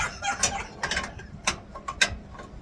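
A wrench ratchets on a stubborn bolt being loosened on a Ford Fairlane: several clicking, grinding bursts in an irregular rhythm, close and moderately loud, with no talking.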